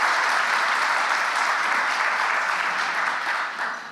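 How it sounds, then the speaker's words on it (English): Sustained audience applause for Hall of Fame inductees at a 2019 ceremony, a steady dense wash of many hands clapping, loud and even throughout, easing slightly at the very end. "Please give a round of applause again for these Hall of Fame"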